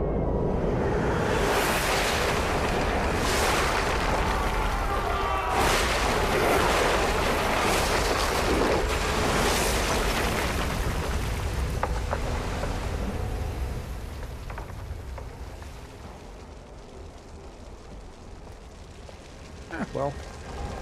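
Repeated explosions in the video game Thief (2014), a dense roaring rumble of blasts and crackling debris that stays loud for several seconds before fading into quieter scattered pops, with a voice talking over it.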